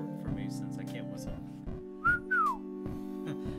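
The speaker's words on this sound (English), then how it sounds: "You have to whistle for me since I can't whistle." Playful whistled notes, a quick rising tone then a sliding falling one, sound clearly over a steady droning game music background with brief speech-like sounds around them.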